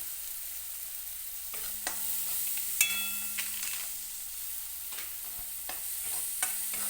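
Masala roasting in a pan for a village-style goat brain dish gives a faint, steady sizzle with occasional scrapes and light clinks of a spoon against the pan.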